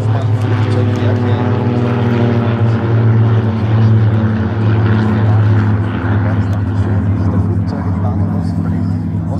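Several propeller aircraft, including a Diamond DA-62, drone past together in a formation low pass at an air display, a loud, steady, harmonic roar that persists throughout, with a voice talking over it.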